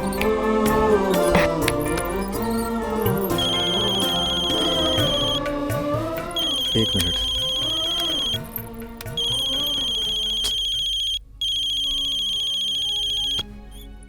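A phone's electronic ringtone repeats in bursts over a musical background, pausing briefly between rings; a person speaks briefly.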